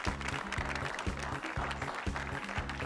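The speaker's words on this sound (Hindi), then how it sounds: "आपकी तालियों में बुलवा रहा हूँ" Studio audience applause on the set of a Pakistani television comedy show, a steady wash of clapping held at an even level throughout, with a rhythmic low musical beat pulsing underneath.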